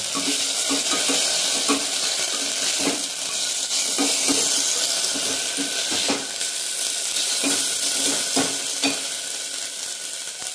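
Ginger garlic paste and onion frying in a pressure cooker for Malvani mutton, giving a dense, steady close sizzle broken by repeated stirring scrapes and occasional utensil clinks.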